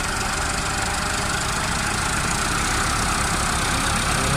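Two tractors, a New Holland 3630 and a Sawraj 855FE, run their diesel engines at full throttle during a speed test, a loud continuous roar with a steady low rumble throughout.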